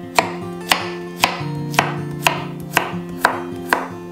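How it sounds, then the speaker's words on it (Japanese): Cucumber being diced with a knife on a cutting board for summer-vegetable fukujinzuke pickles: eight crisp, evenly spaced chops at a steady rhythm, close and clear, with no talking. "同様にさいの目切り。"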